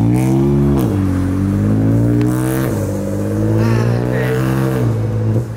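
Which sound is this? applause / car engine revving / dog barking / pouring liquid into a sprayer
car engine revving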